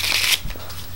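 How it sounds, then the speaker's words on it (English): A standard 52-card deck of playing cards is riffled once, a quick crisp burst up close that is followed by a soft thump and then quiet. "Shuffle the deck."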